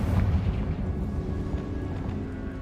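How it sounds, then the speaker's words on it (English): Spell explosions burst in Hogwarts Legacy, a heavy booming blast with deep rumbling low end. It carries loud and close, then decays over a couple of seconds with no talk. "Bombarda! Confringo!"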